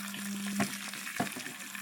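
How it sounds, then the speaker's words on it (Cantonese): Beaten eggs fry over medium-high heat in a hot wok with about a teaspoon of oil, a soft steady sizzle with a couple of brief scraping touches, close and fairly quiet with no talking. "全程都係用中大火將啲雞蛋煎熟"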